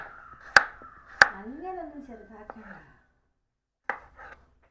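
A knife chops fruit on a cutting board to prepare juice, making two sharp, close chops before a voice talks briefly, followed by one more faint cut.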